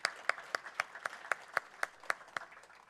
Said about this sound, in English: Let's give a round of applause to our interns for leading us.